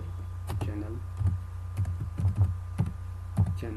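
Keys tapped on a computer keyboard while writing a channel greeting, a few scattered clicks over a low steady hum, with faint voice-like sounds underneath.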